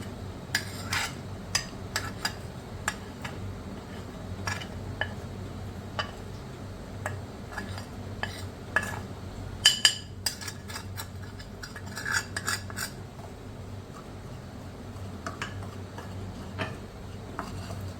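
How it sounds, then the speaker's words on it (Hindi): Spices are stirred together in a big bowl with a spoon, giving light scattered clicks and scrapes against a low steady background, occasionally sharper, with no speech. "इसको डाल लेते हैं एक बड़े बाउल में ताकि ये अच्छे से मिक्स हो जाए सारी चीज़ें।"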